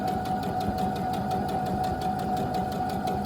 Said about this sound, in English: I'm going to just sew right along the edge of this.